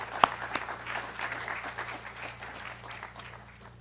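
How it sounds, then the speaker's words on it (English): An audience applauds at a university lecture event, a steady round of clapping that starts with a few sharp claps and then holds at a moderate, even level without talk. "we'd invite you to join us in giving them a round of applause"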